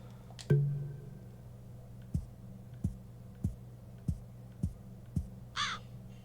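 A bird caws in the dark in the video game Pocket Mirror, a single sharp call followed by a slow series of soft, evenly spaced thuds and a brief higher chirp near the end.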